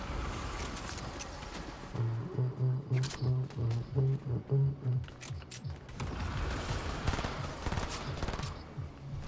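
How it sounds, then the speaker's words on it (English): Gunfire in the video game Fortnite: rapid automatic bursts in quick rhythmic succession, moderately loud, set among clicky in-game mechanical sounds and followed by more scattered shots. "someone shot you from behind then"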